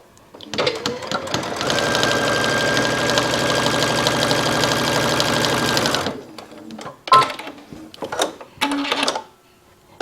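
Home sewing machine running a straight-stitch 5/8 inch seam on fabric: a rapid, even mechanical whir for about five seconds, close and loud, followed by a few short clicks and brief bursts as it stops and restarts.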